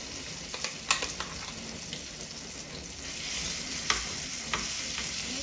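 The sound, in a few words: ground chutney paste added to hot mustard-chilli tempering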